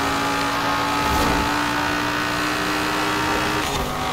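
A 2016 Dodge Viper ACR in Forza Horizon 4 roars with a loud, sustained engine drone that rises slightly in revs, steady and close throughout.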